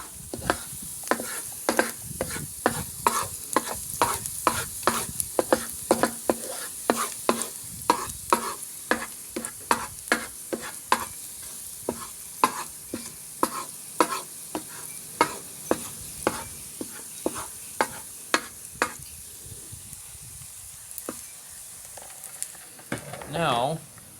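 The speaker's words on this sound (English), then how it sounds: "minced garlic as it's sauteing" Minced garlic sizzles steadily in a hot pan for a quick stir fry of broccoli and shrimp, with a long run of crisp, regular scraping stirs of a utensil against the pan over the constant hiss.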